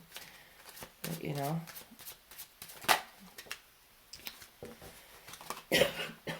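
Tarot cards are shuffled in quick, crisp bursts of riffling and flicking, soft and close, interspersed with a person speaking quietly between the bursts.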